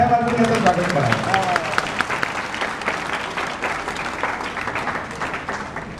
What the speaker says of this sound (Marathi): आपण सर्वांनी टाळ्या वाजवून याचं स्वागत करा